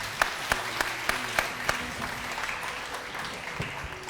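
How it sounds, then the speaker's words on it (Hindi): Studio audience applause on a Ramadan television debate show, opening with a few sharp, evenly spaced claps before settling into softer, scattered clapping over low background noise. "साहब के लिए भी तालियां होनी चाहिए।"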